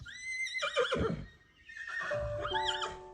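Rescued wild horses neigh and whinny loudly and close, two long calls separated by a brief pause, with faint hoof clatter underneath.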